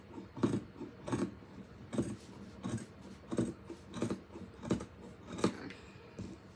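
Scissors snip through folded fabric for an emoji pillow, about a dozen crisp, evenly spaced cuts in a steady rhythm, close by and fairly quiet, with no talking.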